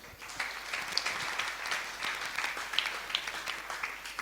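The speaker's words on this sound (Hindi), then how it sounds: "ताली कहाँ बजना आपको पता हो" Audience at a Hindu religious discourse in Bhopal claps together in faint, distant applause, a steady patter of many hands lasting several seconds.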